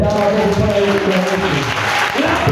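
A church congregation applauding, with steady, dense clapping that continues without a break, over a tonal backdrop of voices or music.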